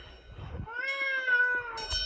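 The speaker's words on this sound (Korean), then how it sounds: "고양이들이 겨울에 먹을 게 없어 매일 집 앞에서 사료만 기다린다." A cat meows once in a drawn-out, rising-then-falling call outdoors in snowy winter near a house, with a short second call starting at the end, fairly close and clear over faint background noise.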